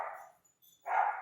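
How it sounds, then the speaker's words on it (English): Two short dog barks, one at the start and one near the end, separated by a brief silence, fairly close. "sorry, my dog's barking."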